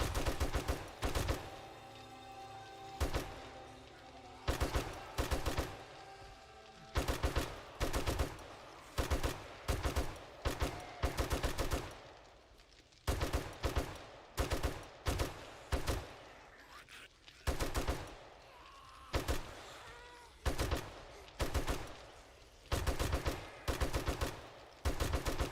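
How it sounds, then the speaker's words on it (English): Short bursts of automatic gunfire from the survival game 7 Days to Die, defending a desert base: loud, rapid clusters of shots repeating at irregular intervals, with brief pauses between bursts and a longer stretch of continuous firing. "I'm firing in bursts, preserves ammo"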